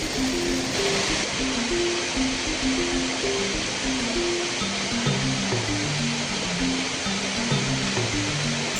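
Rain pours onto a forest river in steady broadband hiss, continuous and loud throughout, with faint low tonal hum running underneath.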